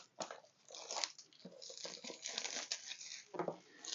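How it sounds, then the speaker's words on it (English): Plastic wrap is peeled off a boxed golf rangefinder with slope, giving close, continuous crinkling and crackling with irregular louder bursts. "Let's go ahead and unwrap this."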